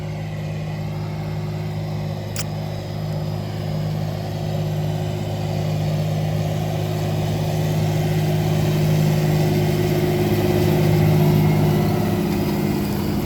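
A heavy vehicle engine runs during grain harvest in a continuous, loud, close drone with a low humming pitch that swells slightly over time, with no talking.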